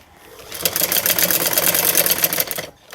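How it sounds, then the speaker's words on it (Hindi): A sewing machine stitches trouser fabric with a rapid, even clatter of the needle, running for about two seconds at close range before stopping. "यहाँ पर हम सिलाई लगा लेंगे"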